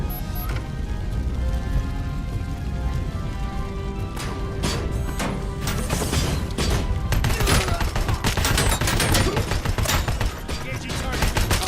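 Enemy gunfire aimed at the player in the RoboCop video game crackles in dense, continuous bursts over a steady din of game sound, growing busier toward the end.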